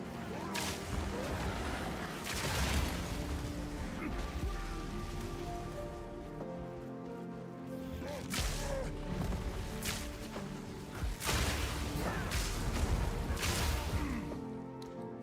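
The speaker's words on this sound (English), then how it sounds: "Armor explosion is definitely helping with the clear." Armor explosion effects burst during fast combat in the action game Path of Exile, repeated sharp cracks and crashing hits over a dense clattering bed, loud and frequent across the whole stretch.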